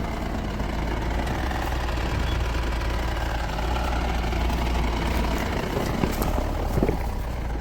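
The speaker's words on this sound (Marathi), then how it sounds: "जाते की तेवढा ट्रॅक्टर" A tractor engine idles and runs at a steady low rumble, close and continuous, near a bullock-cart racing ground, with no speech over it.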